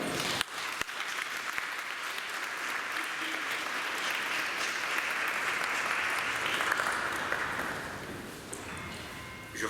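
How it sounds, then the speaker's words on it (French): A church congregation applauds at a Sunday service, fairly soft and distant, the clapping building into a steady wash then tapering off near the end, with faint voices underneath. "En tout cas, on peut les applaudir alors."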